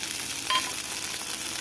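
Chopped raw tomatoes fry with browned onions in a pan, giving a steady, close sizzle with a light stirring scrape partway through.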